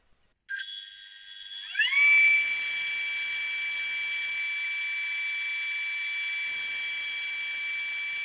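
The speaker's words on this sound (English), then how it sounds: "this disc sander mounted, I sand away the remaining saw marks." An electric disc sander spinning up to a steady high whine, then sanding saw marks off oak, a constant tonal hum with rough grinding texture added in two stretches of contact, no talk.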